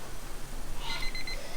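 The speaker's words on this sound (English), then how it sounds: "So there's the timer for a minute and a half." Kitchen timer beeping while a batch of sourdough bagels boils, a short run of faint, evenly spaced high electronic beeps over steady background noise.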